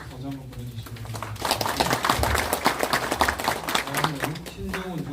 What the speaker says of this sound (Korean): 이재명 대표님께 뜨거운 박수 다시 한번 보내주시기 바랍니다.